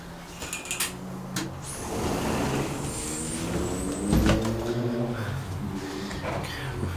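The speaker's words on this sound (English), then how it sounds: "Gonna shut this door because you can hear the road noise otherwise." Steady road traffic rumbles outside an office, with passing cars and trucks and a brief air-brake hiss, fairly faint and continuous through an open door.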